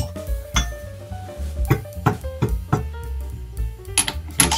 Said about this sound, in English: what I'm going to do now, I'm going to put the torque wrench on.